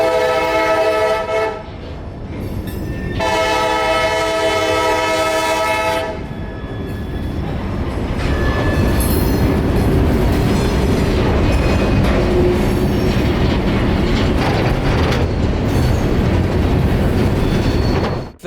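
A freight train with fifteen empty hopper cars rolls off a spur near Tampa Bay, its horn blaring twice in long loud blasts over a steady heavy rumble of wheels and cars that continues throughout.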